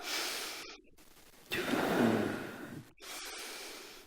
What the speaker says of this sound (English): And 3 deep breaths.